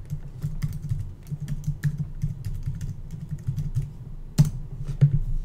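Rapid keystrokes clatter on a Mac keyboard as an email address is typed, a close, irregular run of light clicks with a couple of sharper taps near the end.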